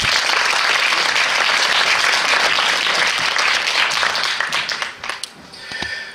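A festival opening-ceremony audience bursts into loud, dense applause that fills the hall, then thins into scattered claps and fades out over the final seconds.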